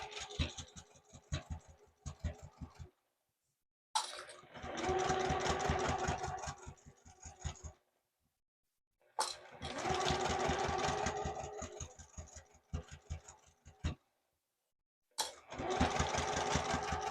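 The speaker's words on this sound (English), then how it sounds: "Now I'm just going to stitch right down the open edge of my trim" A sewing machine stitches down the open edge of fabric trim through layers of fabric and mesh in quick rhythmic bursts, separated by short silent pauses, close and fairly quiet.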